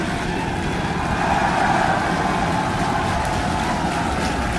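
A constant, loud, broadband roar with a deep rumble, unbroken and steady from start to finish, like a rocket engine at liftoff.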